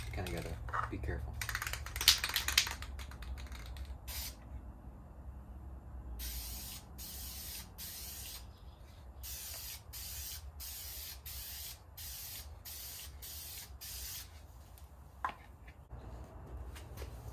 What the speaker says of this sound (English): I'm gonna do Duplicolor acrylic enamel clear coat